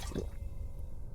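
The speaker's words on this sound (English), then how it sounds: "It's the water cooler." Water drips from a water cooler in the survival horror game Vultures: Scavengers of Death, a soft wet drip and squish over a steady low rumble, short and close.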